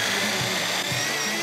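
A power drill fitted with a nail as its bit whirs steadily at a school building site, a continuous close grinding buzz with faint periodic surges and no talk.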